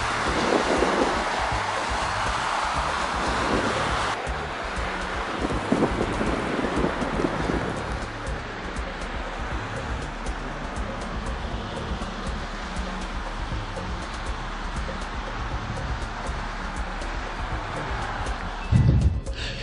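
A snowstorm rages along Lakeshore Road in Ontario, with steady roaring wind and rough lake waves in a dense, broadband rumble that holds for about twenty seconds, plus a brief louder gust near the end.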